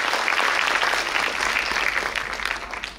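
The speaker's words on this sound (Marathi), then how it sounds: "जोरदार टाळ्या मॅडमची" Audience at a Women's Day gathering honouring Ahilyadevi Holkar's tricentenary claps warmly for a guest speaker, a sustained dense round of applause that holds steady for a few seconds before beginning to thin out.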